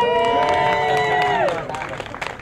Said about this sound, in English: And the crowd goes wild, tell them.